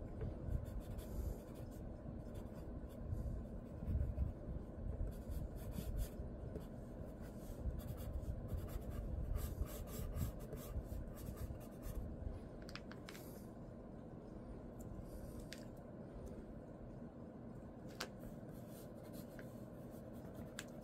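Pencil lead sketching on paper for a drawing of ManBat, a soft continuous scratching and rubbing that stays faint and steady under a constant background hum.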